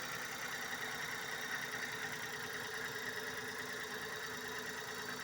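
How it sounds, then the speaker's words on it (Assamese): A used Hyundai Eon car engine idles steadily up close, a continuous even rumble with a faint mechanical rattle and no voices. "মই ইঞ্জিনৰ ওচৰত লৈ গৈছোঁ একেবাৰে, ক'তো একো নাই।"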